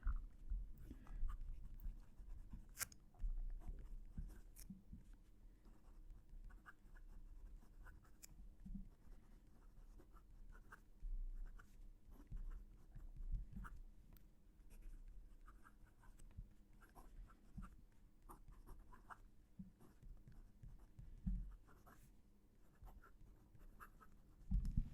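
Pen nib scratching and tapping on paper in steady bursts of strokes, close and quiet, with no talking throughout.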